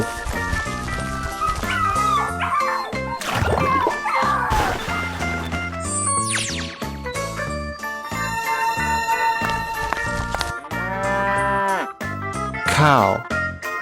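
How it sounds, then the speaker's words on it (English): A cow moos several times, drawn-out calls layered over busy background music and other animal sounds, fairly loud throughout. "Cow."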